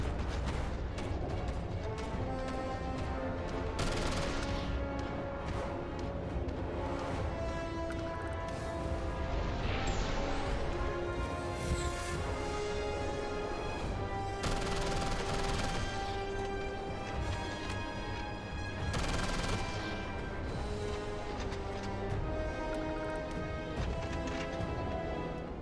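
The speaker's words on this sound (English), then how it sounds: "Who's shooting at what?" Gunfire in Starfield comes as several sharp, heavy bursts and crashing impacts spread irregularly over a continuous droning background, loud and close.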